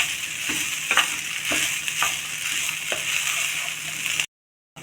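Cabbage rice is stirred in a pan on a low flame, a soft continuous sizzle with regular spatula scrapes and light taps, close by, before a brief cut to silence near the end.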